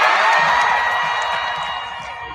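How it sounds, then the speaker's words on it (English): Applause and cheering from an Emmy Awards audience rising as people stand, a dense, loud roar of clapping and whoops that stays full throughout and tapers slightly toward the end. "Did you hear that eruptive applause and everyone gets to their feet?"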